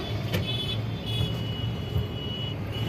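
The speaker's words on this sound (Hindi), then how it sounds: "काफ़ी ट्रैफिक है यहाँ पे, बट मैं धीरे धीरे बढ़ा रहा हूँ" Busy road traffic fills the air with a continuous rumble of passing cars and buses, with a faint short toot heard early on and no clear voices.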